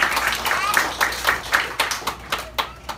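Audience applause following a YAMAHA ensemble performance of El Zapateado, a loose scatter of hand claps thinning into separate, fading claps, with faint voices underneath.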